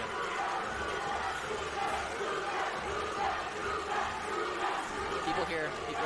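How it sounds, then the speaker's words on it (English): A crowd cheers and shouts after a decision at a Brazilian jiu-jitsu match, a dense, sustained roar with voices mixed through it at moderate distance. "People are cheering."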